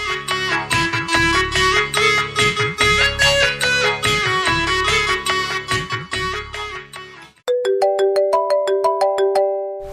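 A mobile phone ringtone rings loudly and continuously, a repeating melodic tone pattern that breaks briefly and then resumes with a brighter chiming tune.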